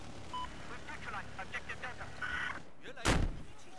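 A tank cannon fires once in an online tank battle game, a loud sharp blast near the end that follows a stretch of busy game noise and muffled voices.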